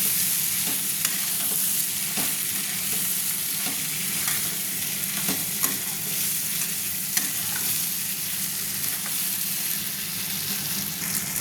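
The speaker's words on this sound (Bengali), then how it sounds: "পেঁপে আর আলুগুলো আমি তুলে নিচ্ছি, দিয়ে আমি কষিয়ে নিচ্ছি মশলার সঙ্গে" Papaya and potato pieces stir-fried with spices in a pan for a fish and potato curry, a continuous close sizzle with frequent scraping strokes of a spatula throughout.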